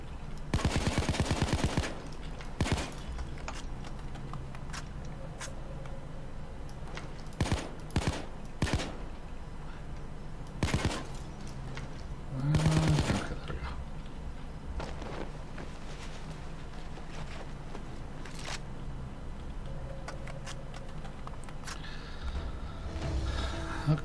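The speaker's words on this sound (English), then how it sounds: "Have you shot the bottles yet?" Gunshots in the video game Payday 2 as bottles are shot, a string of sharp cracks scattered irregularly over a steady background hum, some loud and close, others fainter.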